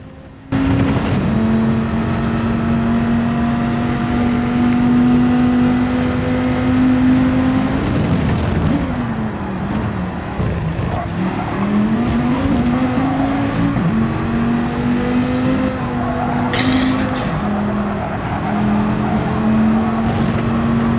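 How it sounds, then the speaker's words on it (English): A GTC-3 race car engine in a racing video game at Laguna Seca holds a loud, sustained tone that dips and climbs as the car brakes and accelerates through corners, heard alone with no talk. "Just listen to the sound of this engine."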